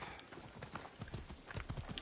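Rapid, rhythmic hoofbeats of a galloping horse in the video game Assassin's Creed Odyssey, steady and fairly close, with a soft background hum.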